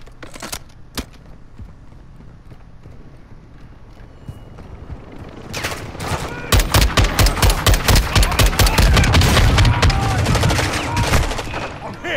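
Sustained automatic gunfire laying down cover fire in a video game shootout, scattered shots at first, then dense rapid bursts that swell loud and close.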